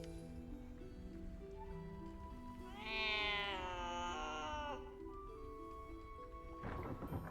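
A cat in the video game Baldur's Gate 3 lets out one long, clear meow in the middle, standing out over a quiet game soundscape with soft sustained tones and a brief rustle near the end.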